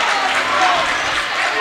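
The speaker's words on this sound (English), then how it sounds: "The fans start to clap it up." Basketball fans clap in a high school boys' gym, a dense, steady wash of applause from a crowd that fills the whole moment.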